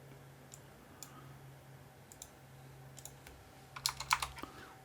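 Typing on a computer keyboard while configuring a router, a few sparse key clicks followed by a quick burst of several sharper keystrokes near the end, quiet and close over a low steady hum, with no speech.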